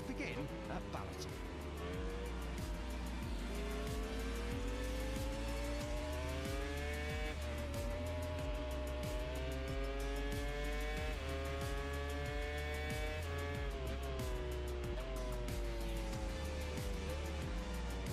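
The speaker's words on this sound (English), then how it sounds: "MotoE qualifying grid down in 10th up to Q1" MotoE electric racing motorcycles at Balaton Park during qualifying give a continuous high electric whine that rises and falls with acceleration, loud and sustained throughout, with a commentator's voice underneath.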